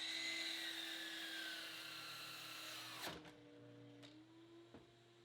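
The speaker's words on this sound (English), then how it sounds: "That is what kickback looks like on a miter saw" A miter saw whines as it cuts a board for a table top glue-up. The blade pinches and kicks back with a sudden sharp crack, a few smaller knocks follow, and the motor winds down. The sound is faint overall.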